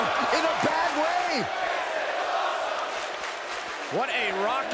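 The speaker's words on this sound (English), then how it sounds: "What a raucous crowd here tonight." A wrestling arena crowd roars continuously in WWE 2K22, a broad wash of noise beneath a commentator's voice, with whistle-like swoops rising over it near the start and end.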